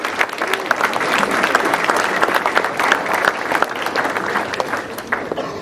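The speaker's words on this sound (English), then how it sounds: "Give yourselves a round of applause." Dense, sustained applause from a crowd at a graduation breakfast event, steady clapping at close range for several seconds with a little crowd murmur.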